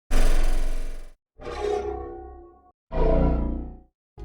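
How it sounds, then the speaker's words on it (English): Designed projectile whoosh built from a pitched laundry rack and metal rattles, heavily processed: three separate loud bursts, each a dense rushing swell with rattling texture that fades, separated by short silences. "kind of meant to be the sound of the projectile itself as it flies away from you"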